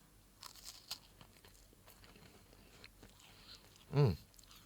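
A thin, crispy Black Choco wafer is bitten once with a loud, close crunch near the end, after faint quiet crackles and chewing sounds, with no talking.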